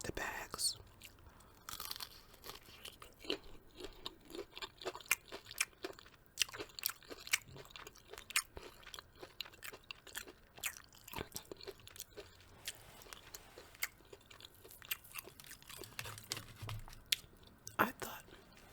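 Crunchy Popeye's chicken strips being bitten and chewed up close, with repeated crisp crackles and tearing bites in an irregular rhythm over a quiet background, occasional soft murmurs between mouthfuls.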